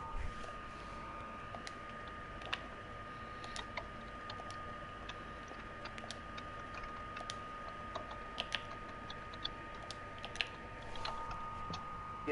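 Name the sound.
typing code on a computer keyboard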